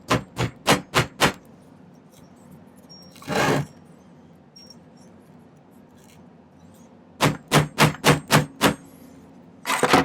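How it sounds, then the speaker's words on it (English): Sharp, ringing hammer blows on silver in quick rhythmic bursts of five or six strikes while shaping a pendant, separated by a scraping sound and quiet pauses, close and loud. "we can use the hammer a little bit"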